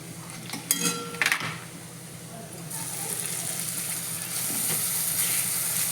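Ginger-garlic paste hits softened onions in a pan and is stirred: a few metal clinks of a spoon against the pot, then a steady, brightening sizzle and hiss that grows louder and continues to the end, with no talking.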